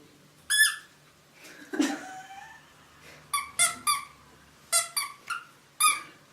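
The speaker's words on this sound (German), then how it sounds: "ich hatte mega Bock auf diese Quietscher" Squeaky toys squeak in short, bright bursts, several in a row and some in quick pairs, close and fairly loud against a quiet background.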